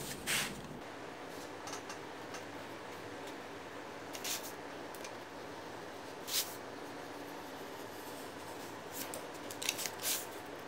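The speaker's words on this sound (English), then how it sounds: "I will cut this pattern, this cardboard, only in the throat line and back line" Scissors cut through a cardboard shoe pattern in a series of faint, crisp snips spaced several seconds apart over a soft steady background hiss, without speech.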